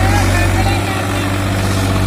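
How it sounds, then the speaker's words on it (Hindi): A new 2020 Massey 245 tractor, a 50 HP model, runs in low third gear hauling a trolley of 125 sacks of potatoes up a steep slope. Its engine gives a loud, steady, close-up drone that holds unbroken throughout. "अब अकेला ट्रैक्टर चल रहा है और तीसरे के लो में है इस बार ट्रैक्टर"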